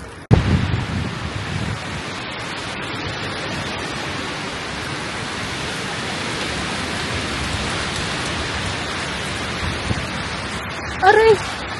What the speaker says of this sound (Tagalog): It's a strong wind.